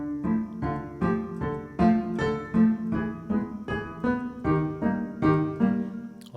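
Slow, rich Halloween piano melody played in a low octave, with deep bass notes held under higher chords, played steadily and resonantly with no voices.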